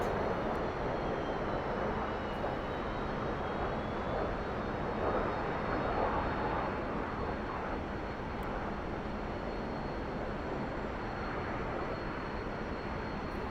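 T-45 jet engines in the DCS flight simulator game, a continuous, even roar heard from inside the cockpit, holding steady throughout.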